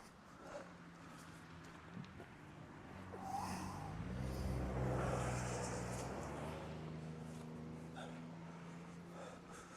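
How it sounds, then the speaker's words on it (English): A car passes on a road in the Appalachian outdoors, a low rumble that swells and fades across several seconds, quiet and fairly distant, heard over faint ambient noise. "Car's coming."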